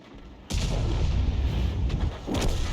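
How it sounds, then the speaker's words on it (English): A T92 HMC self-propelled artillery gun fires in the World of Tanks game: one sudden, loud, booming shot, then a long rumbling tail, with a second softer thump shortly after. "That was taken out by the T92 HMC on our team."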